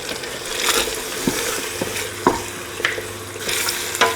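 Masala frying and being stirred in plenty of oil in a pan for a home-cooked anniversary meal, a steady sizzle broken by repeated scraping strokes of the spoon, close and alone.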